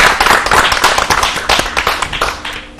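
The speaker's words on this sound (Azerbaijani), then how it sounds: "Alqışlar gəlsin sənə üçün." A crowd claps together for a student during a school tongue-twister contest, a dense burst of close, lively applause that fades slightly toward the end.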